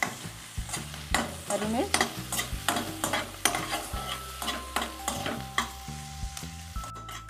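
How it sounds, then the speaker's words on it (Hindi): Onions are stirred and sautéed in a pan over a low flame, with rhythmic scraping strokes against the pan over a soft sizzle, close by; a voice briefly speaks and a faint tonal hum runs underneath. "प्याज को 2 मिनट हम भून लेंगे।"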